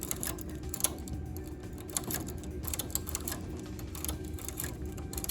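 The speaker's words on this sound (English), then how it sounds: "transferring the second needle and then the fourth and then every other basically" Needles being transferred on a knitting machine bed make light, irregular metallic clicks and ticks, close and fairly soft, over a faint low background hum.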